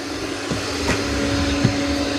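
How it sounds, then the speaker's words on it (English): An iRobot Roomba 505 robot vacuum and mop runs Smart Scrub mopping across a floor, giving a steady, moderate mechanical hum with a couple of faint bumps and no talk. "That Smart Scrub is actually doing a really good job of mopping."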